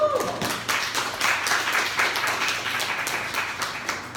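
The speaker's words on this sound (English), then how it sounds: "Round of applause, please." An audience at a roundtable gathering gives a short round of applause to welcome a guest, a brief burst of steady clapping at moderate loudness that fades after a few seconds.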